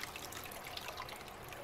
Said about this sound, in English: keeping the noise level down of the water flowing out